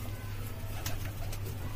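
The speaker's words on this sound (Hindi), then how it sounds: "ये उड़ने वाला कबूतर है" A flying pigeon coos faintly under a steady wash of background noise, its soft low calls partly masked, with no talking.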